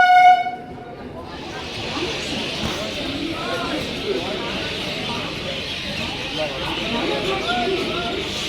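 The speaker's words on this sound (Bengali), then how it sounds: "এই ট্রেনটা করে আর আসলাম আমরা কৃষ্ণনগর থেকে রানাঘাট" A passenger train on the Krishnanagar to Ranaghat line sounds a short horn blast, then rumbles past steadily and fairly close as people chatter nearby throughout.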